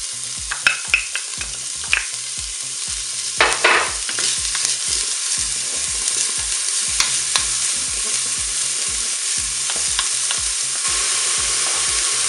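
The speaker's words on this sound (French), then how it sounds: "je vais commencer par faire revenir les lardons" Bacon lardons fry in a preheated Cookeo pot with a steady crackling sizzle, while a utensil stirs and scrapes them in repeated close, rhythmic strokes, with no voices.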